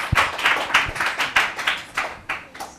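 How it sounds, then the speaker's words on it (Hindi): An audience claps for children at a Ramzan quiz show, a brisk run of hand claps that rises and falls in uneven waves, heard clearly and without talk. "भरपूर तालियों में इन बच्चों की हौसला अफजाई होनी चाहिए।"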